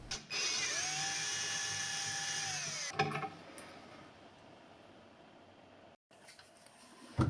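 A power drill spins while removing hardware from an antique sideboard: a steady high whir that winds up and then winds down, followed by short clicks, a quiet pause and a brief burst of drilling at the end, with no talking.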